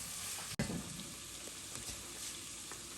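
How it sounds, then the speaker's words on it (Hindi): Bell peppers sauté in a pan with a quiet, steady sizzle and faint hiss, broken by one brief sharp clatter near the start. "इनको 2-3 मिनट के लिए हमें सौटे करना है"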